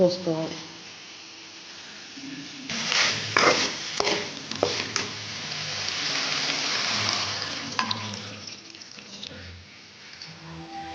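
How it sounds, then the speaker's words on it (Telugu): Tamarind juice poured into a pan of cooked okra curry, a hissing, splashing pour that swells mid-clip and then tapers, with a voice talking over parts of it. "ఇదిగోండి బెండకాయ ముక్క మగ్గింది దీంట్లో చింతపండు పులుసు"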